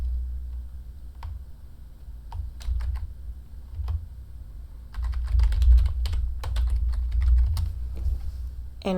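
Computer keyboard keys clatter in irregular bursts of close, crisp clicks, sparse at first and then a denser stretch of fast typing, with no talking.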